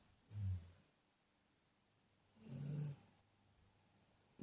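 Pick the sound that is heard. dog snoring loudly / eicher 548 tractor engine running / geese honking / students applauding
dog snoring loudly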